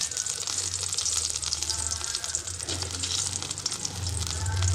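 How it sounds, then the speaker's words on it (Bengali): Boiled potatoes being lightly fried in a little hot oil in a wok on a gas stove: a steady, dense sizzle and crackle that keeps going with a low burner hum underneath. "এখন আমি সেদ্ধ করা আলুগুলোকে হালকা করে ভেজে নেব"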